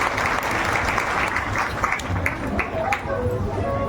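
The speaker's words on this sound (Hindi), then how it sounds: "एक बार ताली बजाइए महाराज जी के लिए" Audience applause for a visiting saint, Maharaj ji, at a devotional religious gathering: dense, steady clapping from a large crowd, sustained loud throughout with no pause.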